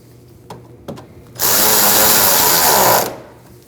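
A power drill runs in one loud, steady burst of about two seconds as it tightens an 8mm fan shroud bolt on a 2012-2021 Nissan NV2500 5.6L V8 during a radiator replacement. A couple of faint clicks come just before it.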